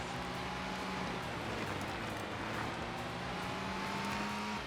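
Front-wheel-drive race car engine in the Max Power Racing arcade video game, a continuous mid-level droning rev with slowly shifting pitch and road noise, no voices.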